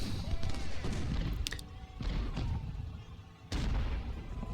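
Civil War infantry volleys in Ultimate General's First Bull Run battle: dense, sustained musket fire rolling continuously with sharp cracks breaking through, and a brief voice mixed in.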